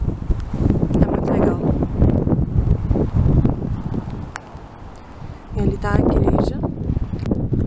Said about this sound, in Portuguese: tá ventando muito, não sei nem se vocês vão me escutar